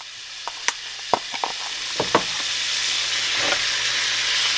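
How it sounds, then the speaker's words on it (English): Diced onions sizzle and hiss steadily in a hot pan on a stovetop set to 6, with a few sharp clinks and stirring knocks early on. "I'm going to turn this up to 6 so it can go ahead and cook. And I'm going to put my onions in there."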